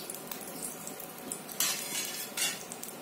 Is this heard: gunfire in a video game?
no